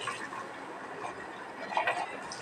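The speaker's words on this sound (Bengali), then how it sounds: "এখন মেয়ের বটলগুলো সব ধুচ্ছি।" Running tap water splashing steadily over baby bottles being washed in a sink, a close continuous gush with slight changes as the bottles move under the stream.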